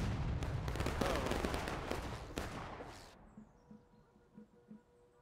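A reenactment company fires a musket volley in the War of Rights video game, with dense overlapping shots crackling loudly for about three seconds before dying away into faint background noise.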